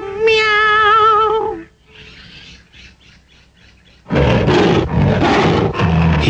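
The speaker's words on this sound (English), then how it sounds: "It's a tiger." A loud, drawn-out tiger roar with a tonal, wavering quality, followed by a quiet gap with faint rustling, then a burst of harsh, noisy growling.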